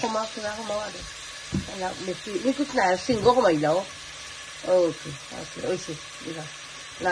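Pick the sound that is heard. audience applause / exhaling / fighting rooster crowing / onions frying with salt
onions frying with salt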